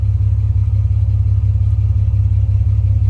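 Steady low engine rumble from a Jeep WJ idling in a garage as the throttle is released, a constant loud drone with no clear rev change and no talk.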